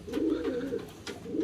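Pigeons cooing in a loft, a soft, low, continuous warbling coo from several birds close by, with faint rustles in the background.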